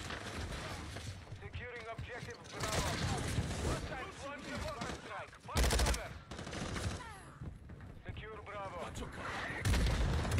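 A mortar strike lands in a video game shooter, several heavy booming blasts erupting between bursts of gunfire while voices talk over the action.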